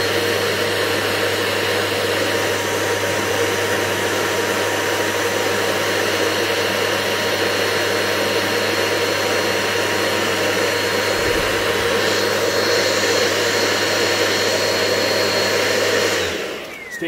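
A vacuum cleaner runs steadily through an airflow test with an adapter sealed in place, a loud even whine with a constant low hum that winds down at the very end.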